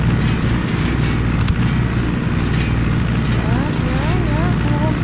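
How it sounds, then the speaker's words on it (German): Helicopter in the video game Ghost Recon Wildlands: a constant, loud low-pitched rotor drone that fills the whole stretch, with faint brief tonal sounds over it. "Achtung, Hubschrauber."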